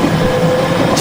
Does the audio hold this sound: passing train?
yes